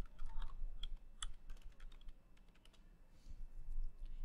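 A search is typed on a computer keyboard as a quick, irregular run of soft key clicks, close and fairly quiet, with no talking.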